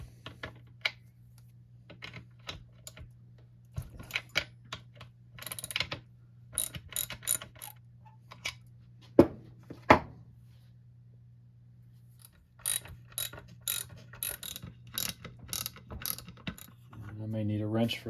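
Socket ratchet wrench clicking in short bursts while loosening a 7/16 bolt on a free curbside chainsaw being disassembled, close and sharp, with a steady low hum underneath.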